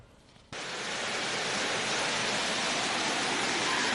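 The Tinsrin cascade at Tizi Ouzou, a mountain waterfall that never runs dry, rushing in a loud, steady broadband roar that starts abruptly after a quiet half second and then holds constant.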